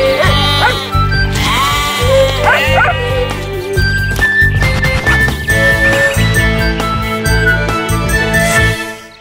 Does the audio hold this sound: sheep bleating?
yes